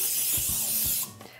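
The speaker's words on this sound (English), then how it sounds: "I am going to spray the pan with a nonstick cooking spray" Nonstick cooking spray hissing onto a cake pan, one steady close aerosol burst lasting about a second, then cutting off into quiet kitchen sounds.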